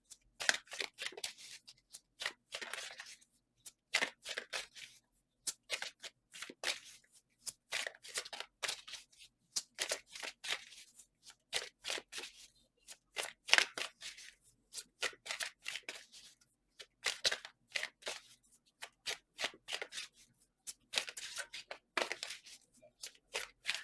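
Tarot cards being shuffled by hand in quick riffling bursts, repeated many times with short pauses between, crisp and close.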